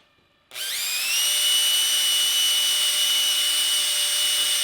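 A power drill on its lowest screwdriver setting boring into a potato, starting abruptly after near silence and holding a steady, loud, whining motor tone that rises slightly in pitch as it spins up.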